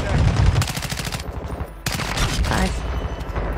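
Video game gunfire, rapid automatic bursts and volleys from several weapons, fairly close and continuous with a brief pause mid-way, under faint background game sound.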